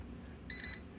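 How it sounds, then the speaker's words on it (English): Two short, high electronic beeps in quick succession from an aroma diffuser button switching between low and high settings, clear and close, over a faint low background hum. "it beeps twice"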